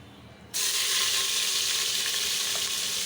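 Beef dropped into hot oil with garam masala for beef khichuri bursts into a loud, steady sizzle that starts abruptly and holds strong and close throughout.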